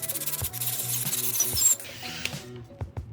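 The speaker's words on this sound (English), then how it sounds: "I want to ream it a little bit more so that it gets some," Reamer boring out a fishing rod grip to fit the reel seat: close, rhythmic rubbing strokes with a scraping rasp, repeated back and forth and fading near the end.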